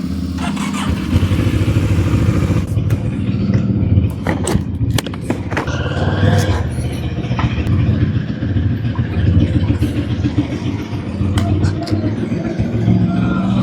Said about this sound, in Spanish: Ay, qué rico salir a andar en moto.